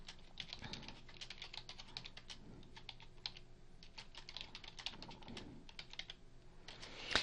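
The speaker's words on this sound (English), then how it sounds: "Otherwise, you can just start typing here" Quiet, fast clicking of a computer keyboard as someone types continuously, the irregular key taps close and soft, with no speech over them.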